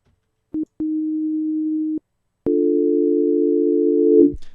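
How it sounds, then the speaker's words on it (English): A steady synthesized tone through a low-pass filter plays in two sustained stretches, the first short and thin, the second fuller and buzzier, ending in a brief warble. "So that's what a low pass sounds like."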